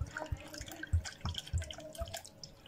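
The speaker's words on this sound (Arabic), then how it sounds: "حطيت عليه كوبايتين من الميه، ببدأ كده اقلب السكر" Water poured onto sugar in a home kitchen to make syrup, heard as quiet, irregular splashes and drips close by, with no talking.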